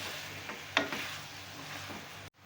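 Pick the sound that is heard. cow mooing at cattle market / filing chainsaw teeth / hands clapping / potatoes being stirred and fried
potatoes being stirred and fried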